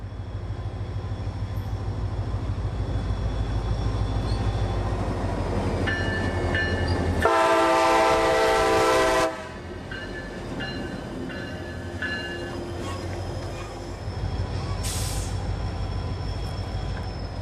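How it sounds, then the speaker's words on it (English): CSX 4292, a freight locomotive, rumbles past hauling its train in central Florida. A loud, close horn blast sounds for about two seconds, then a shorter distant toot, over steady wheel and engine noise. "CSX 4292 would be on the job today, providing plenty of horsepower for the relatively short job this afternoon."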